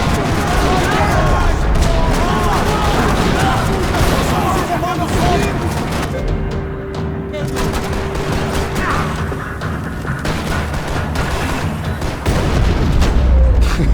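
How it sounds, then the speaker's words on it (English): Gunfire rattles through a parking lot in the video game Max Payne 3: dense bursts of shots and booms, loud and continuous, with a brief lull in the middle before the shooting picks up again. "Another parking lot rattling with gunfire."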